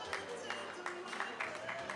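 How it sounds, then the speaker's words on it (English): Audience at a wedding applauding, light scattered clapping in a room mixed with voices and a background of talk. "A round of applause for them, ladies and gentlemen."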